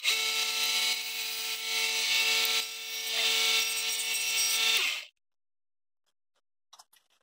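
A Sealey 30x1in belt and 5in disc sander runs with a steady, fairly quiet whine for about five seconds, then cuts off into silence broken by a couple of faint taps.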